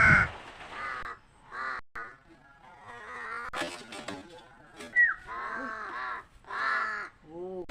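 Several crows caw as they arrive, a string of harsh, separate calls, some near and loud, others fainter, with short quiet gaps between them.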